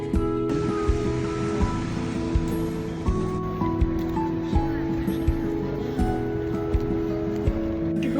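A city cruise boat moves along the water in York on a cold day, its engine droning steadily under a wash of splashing water, with a faint regular knock running through.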